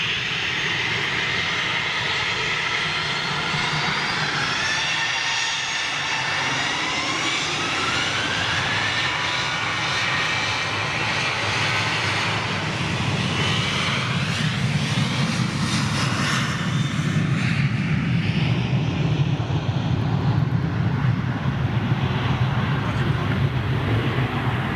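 A large jet airliner lands nearby with its engines derated and no inboard thrust reversers, giving a long, steady roar with whining tones that shift in pitch as it passes, swelling slightly toward the end.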